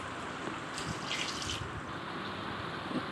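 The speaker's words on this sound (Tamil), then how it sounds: "தண்ணியை விட்டுக்கிட்டு நம்ம ஒரு கிளறி விட்டுக்கோங்க." Water is poured steadily into a pot of brinji rice with meal maker, a soft continuous splashing rush that stays even and fairly quiet, with no talking.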